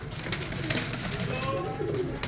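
Johnsiry pigeons coo continuously from a large flock of around 155 birds, soft overlapping coos forming a steady murmur throughout, with someone talking over them.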